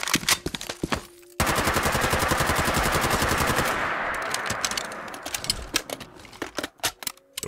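An RPD machine gun in a modded Fallout 4 video game lets off a long, loud, rapid burst. Scattered single shots and short mechanical clicks come before and after it.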